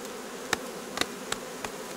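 Honey bees buzz at a hive entrance, a steady faint hum of many insects with several single bees zipping close past in quick passes.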